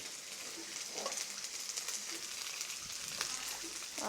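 Fried rice stir-fried in a pan at home, a steady close sizzle with scraping spatula strokes and clinks at irregular moments across the few seconds, no talking.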